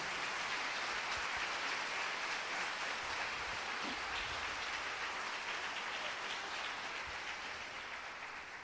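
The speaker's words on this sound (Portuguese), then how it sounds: "Aplauda o Senhor." A church congregation applauding, a steady dense roar of many hands clapping together, heard from a distance and sustained throughout before easing slightly at the end.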